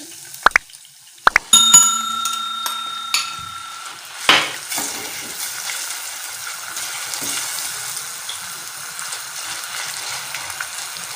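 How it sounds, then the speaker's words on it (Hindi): Boneless chicken added to a hot pan with masala paste for chicken macaroni, a few sharp clinks and a splash-like burst, then a steady faint sizzle that carries on alone. "इसको अच्छी तरह से फ्राई करेंगे इसको अच्छी तरह। अब बोनलेस चिकन इसमें ऐड करेंगे।"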